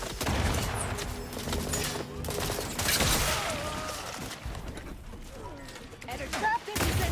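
Video game gunfire from units in a strategy battle, a dense continuous fusillade of overlapping shots and booms with mechanical clatter, loud and sustained throughout alongside game voice lines.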